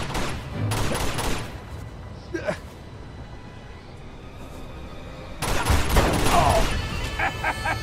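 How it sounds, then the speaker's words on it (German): Desert Eagle pistol fire from enemies in the Uncharted 2: Among Thieves game on PS4, bursts of loud shots at the start and again near the end amid game sounds, with a person speaking over it. "Da habe ich gerade definitiv die Desert beim Gegner gehört."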